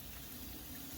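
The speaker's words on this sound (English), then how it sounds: "as soon as you turn the water on, it starts crisping again" Water running from a tap through a Camplux tankless water heater, a faint steady gushing stream with no break over the brief moment.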